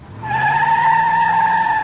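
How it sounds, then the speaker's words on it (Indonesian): Car tires skid loudly as a car swerves sharply to the left on a night drive, a sustained squeal lasting nearly two seconds with no voices. "tangannya membanting setir hingga mobil sedikit oleng ke kiri"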